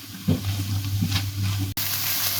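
Vegetable filling for cheesy half-moon pies cooking in a pan: a low, steady sizzle with a few soft stirring scrapes and a brief clatter near the end, no voices.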